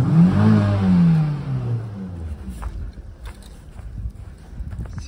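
Nissan Almera Classic (B10) engine revved hard at full throttle, a loud rising roar at the start that fades into a quieter, uneven idle-like rumble, with no talking.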